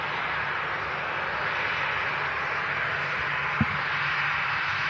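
Ryanair jet airliner arriving at Manchester Airport, its engines producing a steady, loud broadband roar throughout with no talking.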